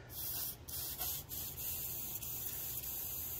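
Automotive base coat paint sprayed from an aerosol spray can for a test, a continuous close hiss with a couple of brief stutters, nobody speaking.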